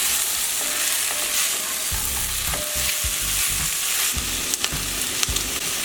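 Carrots cooking in a pot for Japanese chicken curry sizzle steadily while a utensil stirs through them, giving repeated scraping, clattering strokes over a constant frying hiss.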